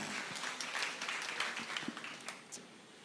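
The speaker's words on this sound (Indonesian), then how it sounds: "Berikan tepuk tangan bagi Dia." A church congregation at a GBI sermon service claps together in a soft, somewhat distant wash of applause that swells and then tapers off, without any talking.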